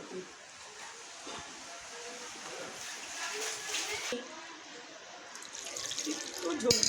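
Water pours steadily from a tap or container, a continuous splashing rush that swells louder toward the end.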